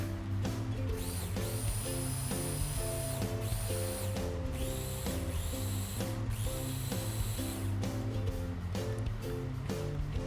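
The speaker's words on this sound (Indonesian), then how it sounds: "Lalu saya mau chopper sebentar lagi biar lebih halus." An electric food chopper whirs continuously while blending karedok peanut sauce finer, giving a loud motor drone with a shifting pitch and rattling, churning texture throughout, without pauses.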